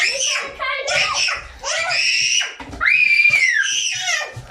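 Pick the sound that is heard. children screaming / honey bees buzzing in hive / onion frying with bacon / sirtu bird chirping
children screaming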